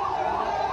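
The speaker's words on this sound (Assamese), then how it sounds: "এম্বুলেন্সখন আহি গ'ল" An ambulance siren wailing steadily at moderate volume, a continuous rising and falling tone over faint traffic rumble, with no speech.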